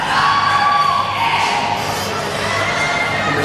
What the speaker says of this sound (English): the crowd is starting to get loud